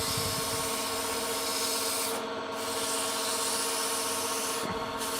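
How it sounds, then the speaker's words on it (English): Steady sandpaper rubbing against a wooden tenon spinning on a woodturning lathe, a continuous close hiss over the lathe's hum with two brief pauses. "I'm just going to sand a touch off really quick"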